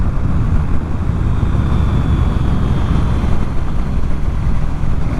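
A Triumph Speed Twin 900 motorcycle rides at low revs in third gear through a small village, a steady, loud engine drone mixed with heavy wind rush, with no talking.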